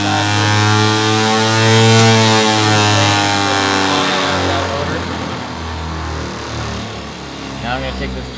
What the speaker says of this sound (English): We create an open on the shunt. It just goes faster, faster.